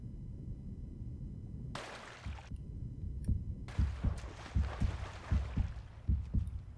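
Heartbeat sound effect from the video game Uncharted 3: Drake's Deception, a low, deep thumping pulse that starts after a quiet stretch and repeats in a steady, fairly quick rhythm under a hissy, rushing game ambience.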